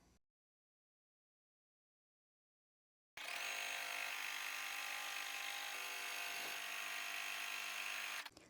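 Embroidery machine stitching a batting placement line on a Halloween quilt wall hanging, a steady continuous mechanical whir starting after a few seconds of silence and running unbroken to the end.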